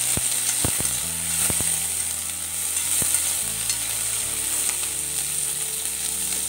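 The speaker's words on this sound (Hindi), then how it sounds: "पैन में 2 चम्मच तेल गरम हो गया है। अब मैं इसमें गवार की सेंग डाल रही हूँ।" Cluster beans sizzling in hot oil in a pan over a low gas flame, a steady bright frying hiss with several sharp clicks and knocks of utensils against the pan, no talking.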